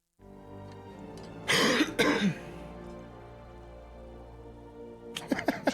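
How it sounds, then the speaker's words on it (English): A couple of sharp coughs straight into a microphone over a quiet video game soundtrack, followed a few seconds later by further throat-clearing bursts. "I just coughed in the mic instead of muted"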